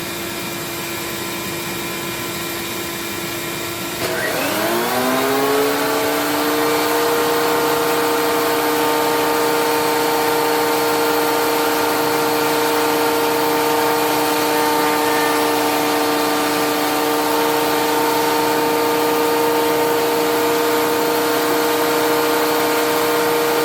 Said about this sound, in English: As always, gotta have my dust collector.